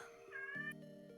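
A cat lets out a single drawn-out meow, fairly close and clear against a quiet background with faint steady tones.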